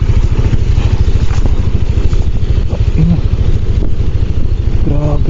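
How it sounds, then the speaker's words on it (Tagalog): Rapid, rhythmic mechanical pulsing from motorcycle ABS brakes on a steep descent in Palawan, loud and close, over a running engine throughout. "Ang ingay ng ABS ko."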